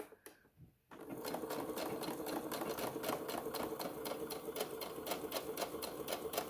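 Sewing machine stitching along the folded edge of a tote bag, starting after a brief quiet moment and then running steadily with a fast, even mechanical rhythm, close and clear with no talking.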